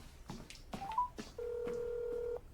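A telephone call signal plays out as a few short electronic tones followed by one long, steady, loud ring tone lasting about a second, with no voices.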